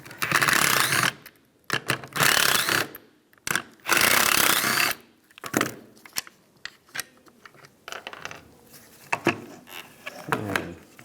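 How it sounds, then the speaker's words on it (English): Three bolts being backed out of a GMC Yukon window motor with an 8mm socket and ratchet, giving bursts of loud ratcheting and metallic clicking with pauses and lighter tool handling in between. "We're going to use a 8mm socket."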